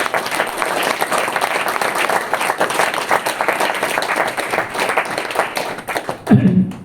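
An audience at a talk gives enthusiastic, dense applause that continues steadily for several seconds, then cuts off abruptly near the end.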